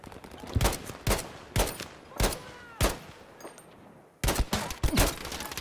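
Gunfire in Battlefield V, a series of sharp, loud rifle shots fired singly and in quick pairs at irregular intervals, with a brief lull before a final burst of rapid shots.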